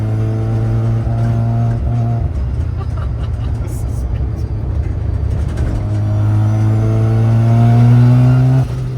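A rotary-engined sleeper car revs and accelerates hard, its engine note climbing in pitch, dropping at a gear change, then rising again loud and close from inside the cabin.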